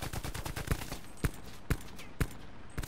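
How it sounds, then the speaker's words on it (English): In the Prop Hunt video game, a fast burst of rapid gunshots opens, then single sharp shots follow at roughly half-second intervals, fairly close and crisp with no talking. "Stop shooting, you idiot! You're just wasting your own ammo!"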